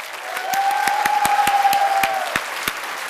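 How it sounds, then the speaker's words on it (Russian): Game show audience applauding in a studio, loud rhythmic claps in near unison under a sustained sung or played tone, with some cheering mixed in. "аплодисменты"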